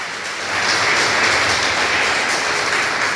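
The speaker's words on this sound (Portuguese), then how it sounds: "vamos aplaudir a Jesus bem forte" A church congregation applauds loudly for Jesus during a service, a dense, steady roar of many hands clapping that swells in within the first half second and holds strong.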